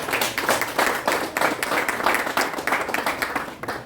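Students in a classroom audience applaud together, a steady crowd of clapping hands rising and falling in waves throughout, moderately loud with no talking over it.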